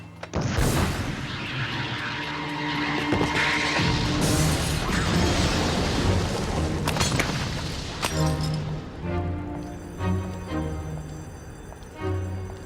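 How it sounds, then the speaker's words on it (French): An explosion in the French-dubbed animated Tekken film: a loud, sudden boom with a crashing burst that rolls into sustained rumble and debris-like noise, then fades under tonal score music. "il y a eu une explosion!"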